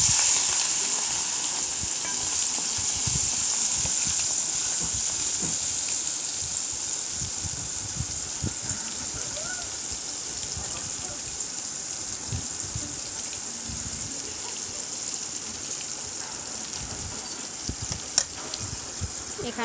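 Small spiced pieces of beef offal (bot) frying in hot oil give a steady, loud, close sizzle that holds evenly throughout, with a sharp clink near the end.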